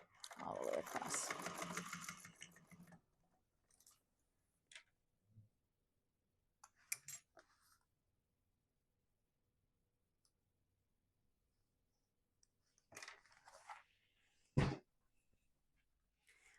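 A sewing machine stitches across fabric in one short, dense burst at the start, followed by quiet scattered clicks and handling noises with long silent gaps.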